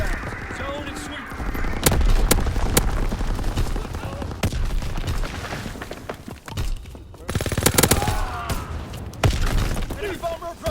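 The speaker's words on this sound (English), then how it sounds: "Sending mortar rounds." Mortar rounds exploding in Call of Duty WWII, heavy repeated blasts and sharp gunfire cracks over constant battle noise, while a voice talks in between.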